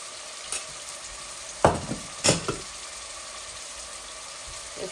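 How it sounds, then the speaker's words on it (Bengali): Blended onion hits hot oil in a pan while cooking boal fish with flat beans, producing a steady fizzing sizzle with a few louder bursts and stirring scrapes, close and alone without voices. "এই যে ব্লেন্ড করা পেঁয়াজ আমি দিচ্ছি, জলদি হয়ে যাবে বলে।"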